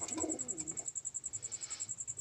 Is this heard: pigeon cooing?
yes